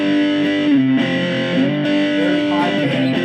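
Three-string cigar box guitar played through a Roland Micro Cube GX on its high-gain rectifier setting, a thick, sustained distorted chord ringing loud and steady with a couple of restrikes.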